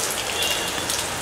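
Heavy rain pours down steadily on a wet outdoor photo shoot for a song, a dense, even hiss of drops striking surfaces with no voices over it.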